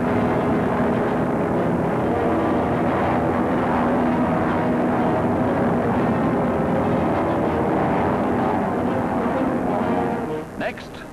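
A 1944 C-46 transport plane in flight drops paratroopers, heard as a loud, continuous droning engine roar with a steady low hum that holds throughout and eases slightly at the end.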